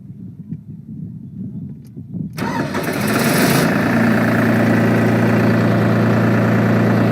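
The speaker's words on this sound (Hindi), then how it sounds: "आइए ड्राइवर जी थोड़ा ट्रैक्टर चालू कीजिए।" A tractor engine cranks and fires after a quiet moment, catching at about two seconds and settling into a loud, steady diesel idle that carries on to the end.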